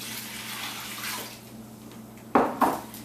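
Water is poured into a plastic bag holding chicken marinade, a steady rushing splash that swells, then gives way to two sharp crinkling knocks of the bag near the end.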